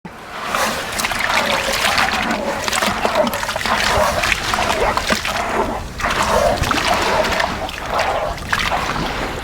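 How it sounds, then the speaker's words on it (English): A hand churns wet, soupy sand and water inside a bucket for a building a sandcastle, giving steady sloshing and squelching close up with irregular splashy pulses throughout. "we're gonna reach in and mix it up because we don't want any dry sand"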